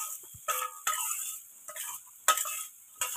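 Pieces of bajra bhakri are stirred into fried onion and coriander in a pan, with a light sizzle under five or six brisk, rough scraping strokes that come in separate bursts. No one speaks.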